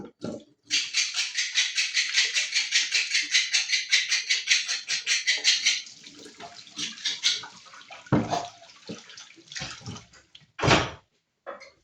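Running water pours steadily into a container while meat is washed by hand, then breaks into shorter splashes and sloshes with brief pauses, close and fairly loud.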